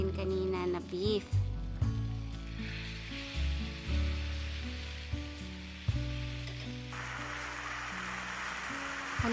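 Marinated beef slides into a hot pan for beef with broccoli and sizzles steadily, with a loud frying hiss and scraping, stirring clatter close by, while a low hum runs underneath.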